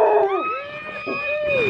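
A dog gives a drawn-out, wavering howl with rising and falling pitch, close and fairly loud, breaking briefly before a second long howl.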